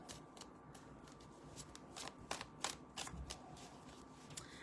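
Tarot cards being shuffled by hand, a steady run of soft riffling and papery flicks close to the microphone, with no talking.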